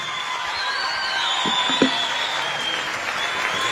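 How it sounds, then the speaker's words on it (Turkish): An audience applauds as a poet is sent off at the end of a talk. The clapping is moderate and steady, with a couple of brief low thumps partway through. "Büyük alkışlarla uğurluyoruz."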